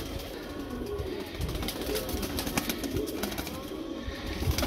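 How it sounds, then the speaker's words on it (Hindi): Pigeons, including red-eyed birds kept for sale, coo in soft repeated calls amid a busy clutter of birds, with occasional wing flutters, moderately close and without speech. "ये लाल आंखों में कबूतर है दोस्तों"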